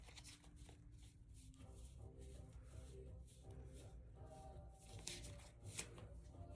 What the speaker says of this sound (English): So I'm just pulling a few cards out here.